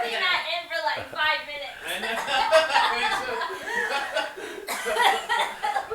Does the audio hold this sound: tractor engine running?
no